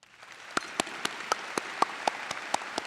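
Sparse, evenly spaced claps ring out one at a time at a high school graduation ceremony for the Class of 2024, fairly quiet and close, rather than a full crowd ovation.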